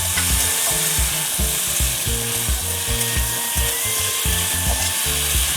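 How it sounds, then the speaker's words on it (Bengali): Liver and potato curry cooks in a pan over a wood fire, with a steady sizzle under repeated scraping, rubbing strokes of a utensil against the pan, close and fairly loud, no talking. "কাঠের জ্বালানি দিয়ে মেটের আলুর তরকারি হচ্ছে।"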